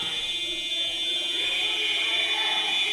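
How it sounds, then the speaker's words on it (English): A sustained electronic buzzer signalling full time at an Ireland v Wales Celtic Cup match drones loudly and steadily throughout, a constant high tone over faint background noise. "There's the buzzer, and Ollie just calls it."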